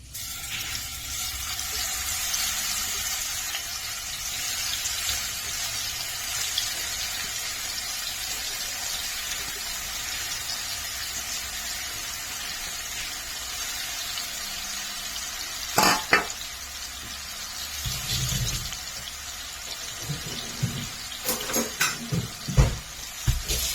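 Prawns fry in coconut oil in a hot pan with a steady broadband hiss and sizzle. Occasional clinks and scrapes of stirring break through toward the end.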